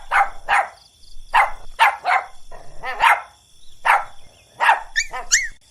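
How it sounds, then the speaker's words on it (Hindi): A cartoon dog barks at a witch: a rapid series of around a dozen sharp, loud barks and yips in uneven bursts, close up with nothing else audible. "उस पर भौंकने लगता है"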